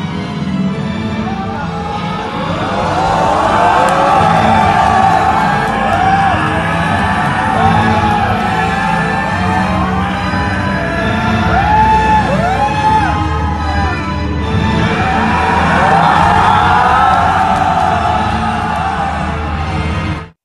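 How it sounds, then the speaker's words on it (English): A large crowd of Indian Dragon Ball fans at a meetup shouts the Kamehameha chant together: a loud, continuous, roaring wall of voices that holds for about twenty seconds and swells in waves. "We were freaking shouting Kamehameha."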